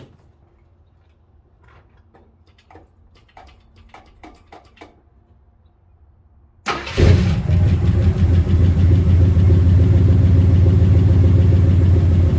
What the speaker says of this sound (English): I haven't even started this in a couple days since I bought the truck, or got the truck, and it just fired up